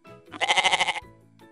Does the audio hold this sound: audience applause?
no